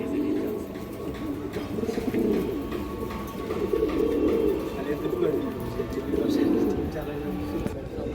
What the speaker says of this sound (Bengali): এগুলো কিন্তু দর্শক পুরান কবুতর আর কি